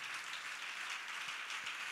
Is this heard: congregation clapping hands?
yes